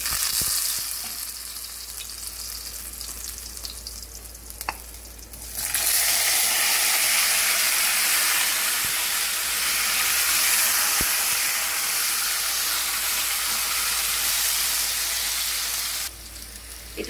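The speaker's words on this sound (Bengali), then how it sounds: "এই ফোড়নগুলো দিয়ে তারপরে আমি আলুটা ভাজবো" Potatoes frying with whole spices in oil, a loud, close, continuous sizzle that jumps up sharply after a quieter start and stays strong, with a brief drop near the end and a few stirring knocks.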